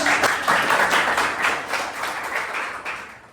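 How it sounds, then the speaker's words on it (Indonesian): An audience claps in a room, a dense steady burst of applause from many hands that slowly fades over a few seconds, with no voices over it. "Oke, kita beri aplaus dulu."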